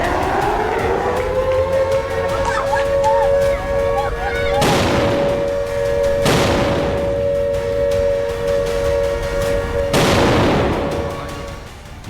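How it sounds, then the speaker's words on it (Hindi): Explosions from an Iranian missile attack on Tel Aviv: three heavy booming blasts, spaced apart, over a steady wailing siren and a constant background rumble, with no voices. "ये तस्वीरें इजराइल के तेल अवीव की है, जहां ईरान ने 200 से ज्यादा मिसाइलों से हमला किया।"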